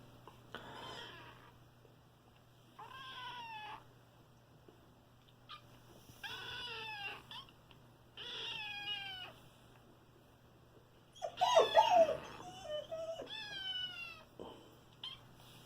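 Two young kittens found in the rain meow repeatedly, high wavering cries coming every couple of seconds, close and fairly quiet, with a louder cluster of overlapping meows near the end.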